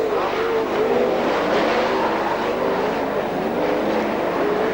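Sprint cars race at Speedway City in Adelaide during the 2001/02 Australian Sprintcar Masters, a loud, continuous engine roar with pitch rising and falling as the cars circle the track, with no voices.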